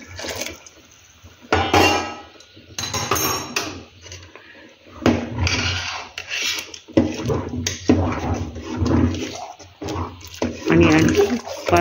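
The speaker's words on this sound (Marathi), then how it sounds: "आता यामध्ये आणखी 1 तांब्या मी पाणी ओतून घेणार आहे" A pot of cooking sago, boiled into porridge for papad, gets water poured in from a small metal vessel: splashing bursts come in irregular pulses with clinks of metal, while someone talks between pours.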